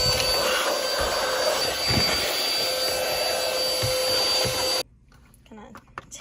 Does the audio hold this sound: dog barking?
no